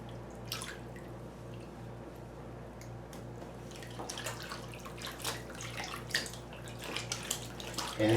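Water sloshing and dripping in a bathtub as a large wool blanket is washed in cool to just-under-lukewarm water, a steady close wash with scattered drips and splashes.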